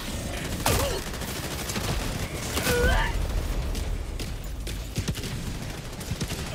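An orbital strike barrage in a video game unleashes a run of loud, rapid booming blasts and crackling bursts like heavy gunfire, with whistling tonal sweeps overhead and dense battle noise throughout.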